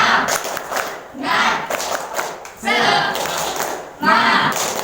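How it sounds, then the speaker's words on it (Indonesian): A classroom of students performing the tepuk semangat chant, bursts of rhythmic group clapping alternating with loud shouted voices, several energetic pulses over a few seconds. "Tepuk semangat"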